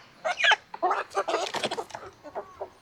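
Hens and a rooster clucking at a Vietnamese poultry market, a close run of irregular clucks and squawks of varying pitch, with no talk over them.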